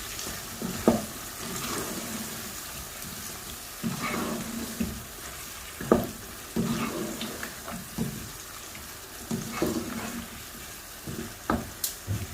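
Potatoes and chickpeas being fried in oil for a Pakistani-style dish, with soft continuous sizzling and repeated stirring scrapes and clatters of a spoon in the pan at irregular intervals, close by and with no talking.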